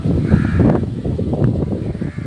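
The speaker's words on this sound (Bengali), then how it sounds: "আর পাখিদের কিচিরমিচির ডাক" Crows cawing outdoors on a rooftop on a breezy, lightly rainy day, harsh repeated calls fairly close over a soft background wash.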